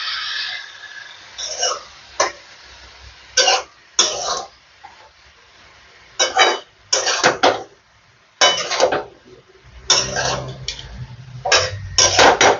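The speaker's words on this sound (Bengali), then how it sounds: "আবার আমি একটু ভালো করে মিশিয়ে দিচ্ছি।" Radish curry is stirred in a pot, with separate bursts of scraping and clinking from a spoon against the pot, broken by short quiet gaps and coming up close and fairly loud.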